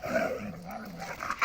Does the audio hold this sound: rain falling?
no